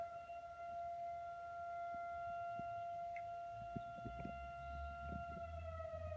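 An STH-10 fire siren sounds for a CO alarm activation, a steady multi-tone wail ringing from a distance over low outdoor rumbles, with no voices.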